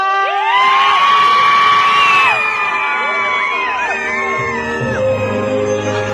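A large crowd screams and cheers loudly and continuously at a birthday fan meeting, with high-pitched shrieks and whoops rising and falling throughout.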